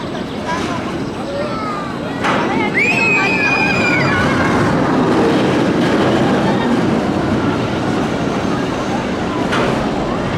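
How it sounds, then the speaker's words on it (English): A roller coaster train at LEGOLAND Billund runs along its track, a steady rolling rumble that swells louder partway through and holds with rattling and clatter, with voices and crowd noise mixed in. "that was a great coaster"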